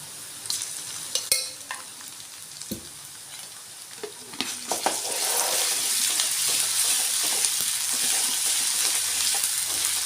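Onions frying in hot oil with a quarter tablespoon of ginger garlic paste, for capsicum aloo curry: a few clinks of a stirring spoon at first, then a steady, loud sizzle that swells and holds to the end.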